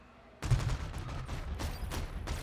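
Automatic gunfire in the Call of Duty: Infinite Warfare shooter, a sudden burst of rapid shots followed by repeated sharp cracks, close and loud, with no talking.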